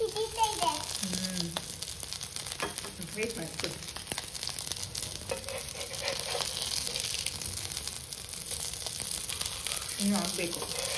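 Mutton and potato cutlets frying in a pan, roasting toward golden brown, give a steady broadband sizzle throughout, with occasional scraping and stirring and brief bits of voice over it.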